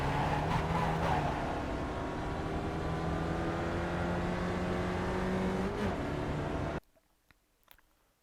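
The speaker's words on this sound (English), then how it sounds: "I want to be back at full throttle, accelerating out of the corner" Spec Racer Ford race car in iRacing accelerating hard out of a corner at Sonoma: a loud, continuous engine drone climbs in pitch under full throttle for nearly seven seconds, then cuts off abruptly into near silence.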